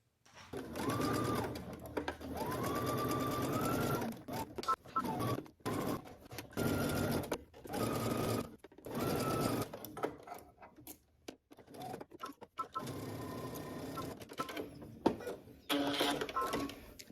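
A sewing machine stitches a 5/8-inch seam around a collar, racing in several close, loud bursts separated by short pauses. No one speaks.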